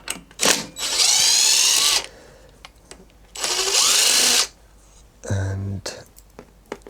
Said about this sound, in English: I'm going to use an impact gun.